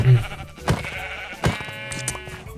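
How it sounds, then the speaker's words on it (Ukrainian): Sheep in the Minecraft video game bleat twice in short, clear calls about a second apart, over a steady layer of soft in-game background sound. "пішли вівці підстрижу трохи, бо мені шерсть потрібна їх"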